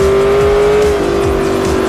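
A race car's engine in Forza Motorsport 4 holds a loud, steady high-pitched drone, with revving pulses and a sustained tone throughout, dense and close with no voices.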